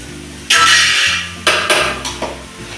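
Cooked green banana stir fry (balekai palya) being served onto a plate, with a clear metal clatter of dishes and utensils followed by several sharper clinks and scrapes, close and loud with no talking.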